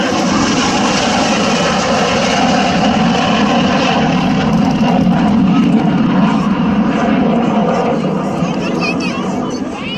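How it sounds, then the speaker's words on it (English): Fixed-wing airplane making a high-speed pass at over 350 knots at the Great Bend Airfest airshow, a loud continuous engine roar filling the whole stretch with a faint crowd and announcer underneath. "comes a high-speed pass now from show left, regardless, at a speed of over 350 knots"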